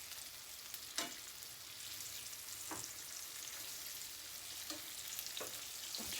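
Deer steaks fry in bacon grease in a pan, giving a steady crackling sizzle with a few sharper pops and stirring clatters spread across the span, and no talk.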